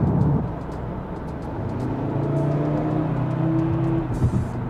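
Audi RS Q3 with a five-cylinder turbo engine accelerating, a steady engine drone heard from inside the cabin with a rising tone as the turbo pulls, continuous and fairly loud.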